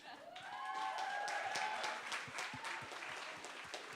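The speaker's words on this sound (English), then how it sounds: "But big round of applause for them." Audience applause at a student community impact awards ceremony, a broad wash of clapping that swells early and then holds steady, with an indistinct voice and some tonal sounds over it.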